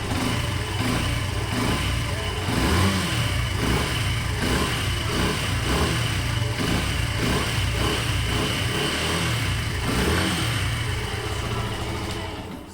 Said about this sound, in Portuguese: vou dar uma aceleradinha aqui pra vocês perceberem um pouquinho a zoada